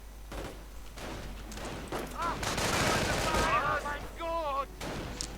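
Bursts of MG42 machine-gun fire in a 1v1 war strategy game, joined by rifle shots and distant thumps, with radio-like chatter and a steady battlefield rumble underneath.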